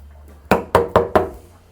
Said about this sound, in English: a little knock